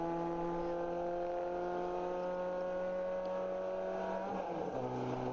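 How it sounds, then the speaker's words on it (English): A ChampCar endurance race car at Circuit of The Americas holds a steady, loud, buzzing engine note that climbs gradually and then drops sharply around an upshift, with no one talking over it. "I hear him winding the revs out."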